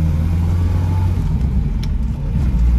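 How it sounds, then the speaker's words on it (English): A 1974 Bedford HA van's small petrol engine with four-speed gearbox pulling away, a close, loud mid-range engine drone that rises and surges as it drives off, no speech. "Get this little van out for a spin"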